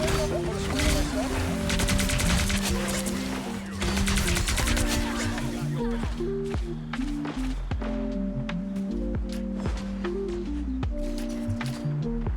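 Iron Man's pulse cannons firing in the hero shooter Marvel Rivals, rapid bursts of energy blasts over a loud, dense battle mix with music and voices calling out.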